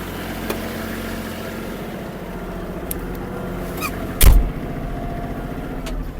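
A Japanese Kubota GL-29 mini tractor engine running steadily with a smooth, stable low rumble and a faint mechanical whine, with one brief knock partway through and no speech.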